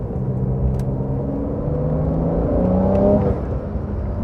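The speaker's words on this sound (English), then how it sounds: "there's a tiny bit of a wastegate sort of whistle and sneeze there" A loud engine drone from inside a 2020 Porsche 911 Carrera 4S climbs in pitch, then eases off with a brief wastegate whistle and puff of released turbo pressure.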